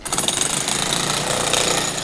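A jackhammer pounds away at a nearby construction site beside a home where cars are being washed, giving a loud, steady, rapid rattling that runs unbroken for the whole stretch with no voices.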